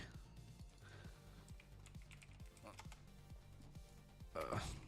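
Quick, steady keystrokes on a computer keyboard clatter close by in a regular rhythm, with a brief louder burst of noise near the end.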